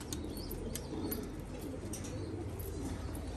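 Pigeons cooing softly in a loft of ringed breeding pairs, low rolling coos repeating under a steady background hum, with a few faint higher chirps mixed in.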